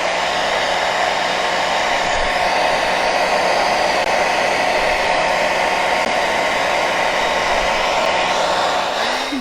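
A hair dryer blows steadily on a wax resist watercolor painting of poppies, a loud, even whoosh and hum held close for the whole stretch, cutting off at the very end.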